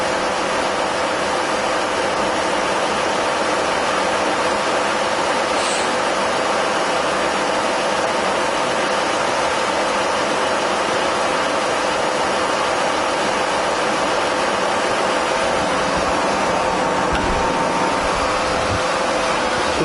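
A Harrison M400 lathe with a 2.2 m bed runs under threading feed, giving a continuous dense mechanical whir and hum at steady loudness with no speech.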